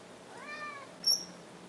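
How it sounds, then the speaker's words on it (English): A house cat gives two short meows close by, the first a rising-falling call and the second a brief higher squeak, in an otherwise quiet room. "I'm following my cat."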